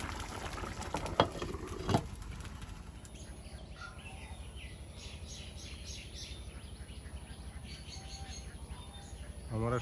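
A pot of chickpeas and taro boils on a stove with a low, continuous bubbling simmer. A couple of sharp knocks come early, and faint bird chirps and insect-like trills sound in the background.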